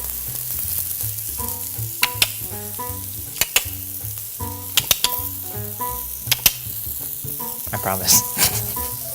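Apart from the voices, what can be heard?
pork sausage patties sizzling on a griddle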